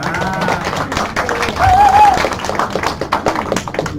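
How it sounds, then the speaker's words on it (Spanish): An audience claps together inside a church, a scattered round of applause mixed with voices and cheering that swells briefly in the middle. "Un aplauso."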